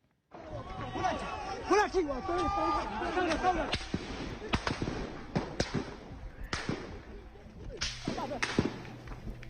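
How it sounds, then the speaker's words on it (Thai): Sharp cracking gunshots from soldiers firing on anti-junta protesters in Myanmar ring out at irregular intervals, some in quick pairs, over a noisy background of distant voices and commotion. "เสียงปืนที่ดังขึ้นเป็นระยะระยะจากการที่ทหารเปิดฉากยิงผู้ประท้วงต่อต้านรัฐบาลทหาร"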